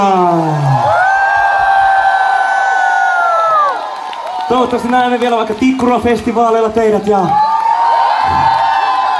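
Large concert crowd at a gig in Vantaa, Finland, roaring and whooping loudly while the performer talks over an amplified PA, with the cheers dipping briefly before rising again in pulsing shouts.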